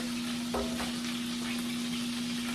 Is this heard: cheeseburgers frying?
yes